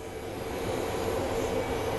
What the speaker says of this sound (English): There's a C-130 flying above us.